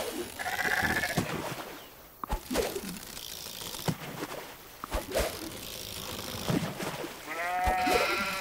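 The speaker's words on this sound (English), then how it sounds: "Sheep." Sheep bleating in the farming video game Farm Together, several wavering bleats spread across the clip, fairly loud and close, with background game ambience and clicking mechanism sounds between them.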